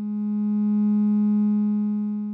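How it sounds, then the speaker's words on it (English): A Moog Mother 32 synthesizer is driven into saturation distortion. It holds one steady, sustained pitched tone with added overtones, swelling gently in level from start to finish with no gaps. "The Mother 32 is introducing some distortion. As I start driving to saturation,"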